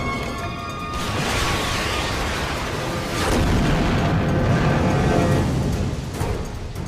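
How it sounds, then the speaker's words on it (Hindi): A blown-up target erupts in a loud, rumbling explosion, a sustained heavy roar that swells again partway through and keeps booming to the end, with no voices. "अब मैं अगला टारगेट उड़ा रहा हूं।"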